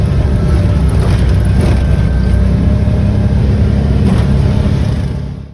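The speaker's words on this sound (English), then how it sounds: "And this is me riding in one of the three-wheeled tuk-tuks." A three-wheeled tuk-tuk engine drones loudly and continuously while riding along in Tanzania, with rushing wind and road noise before it fades out at the end.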